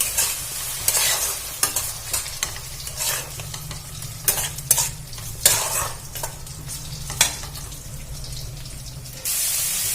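Tomato paste and spices are stir-fried in a pan, a steady low sizzle broken by repeated bursts of scraping and stirring strokes at an uneven rhythm, close up and without speech.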